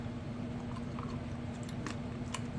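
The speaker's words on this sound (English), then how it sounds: "35-year-old chewing gum" Close, wet chewing of 35-year-old stick gum from 1987 Topps baseball cards, with soft squishy bites and faint clicks over a low steady hum.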